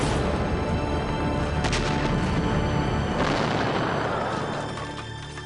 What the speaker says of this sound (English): But the explosion was to change my life forever.